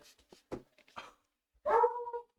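A small, lively dog gives a few short barks and yips, followed by a longer whining, yelping call at close range, with quiet gaps between.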